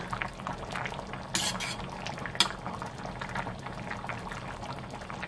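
Boneless chicken feet simmer in a pot, a steady bubbling wash with a few clinks of a utensil against the pot and a sharp knock near the middle, no voices.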